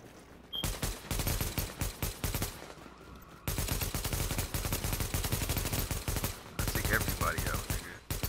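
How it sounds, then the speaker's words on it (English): NPC gunfire in The Division comes in sustained rapid automatic bursts, broken by brief pauses and then resuming, moderately loud with faint chatter in the background. "Now who's shooting? Yeah, that was NPC."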